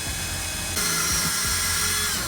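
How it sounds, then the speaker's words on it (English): A power drill boring a hole into the metal floor of a Sprinter van during an underslung LPG tank installation: a steady, close, high-pitched whine that grows louder as the bit bites. "So we'll get the other one measured up and get those drilled."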